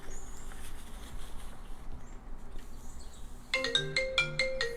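A phone ringtone plays from an unknown caller during a talk, a short bright repeating melody entering near the end after a few seconds of quiet room noise.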